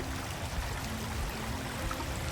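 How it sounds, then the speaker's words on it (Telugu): Water flowing in a backyard creek in the evening, a steady, even rush and trickle heard close by with no breaks. "యాక్చువల్గా చూడండి మాకు ఇలా వాటర్ ఫ్లో ఉందన్నమాట"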